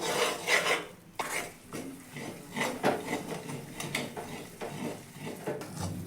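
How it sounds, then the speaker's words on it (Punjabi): Gram flour roasting in desi ghee over low heat for besan laddoos is stirred in a pan, giving continuous close scraping and clinking of a spoon against metal, with no speech. "ਇਸ ਤਰ੍ਹਾਂ ਹੀ ਘੱਟ ਸੇਕਦੇ ਦੇ ਉੱਤੇ ਆਪਾਂ ਭੁੰਨੀ ਜਾਣਾ ਹੈ ਜੀ ਔਰ ਹਿਲਾਉਂਦੇ ਰਹਿਣਾ ਇਹਨੂੰ"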